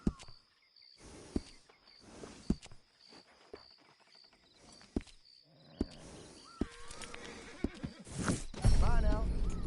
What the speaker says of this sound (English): That is a great horse.